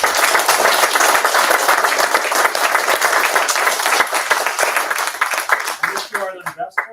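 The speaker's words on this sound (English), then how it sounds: "let's give a warm round of applause" An audience at an office launch event gives a warm round of applause, dense and close for several seconds before tapering off as a voice begins speaking.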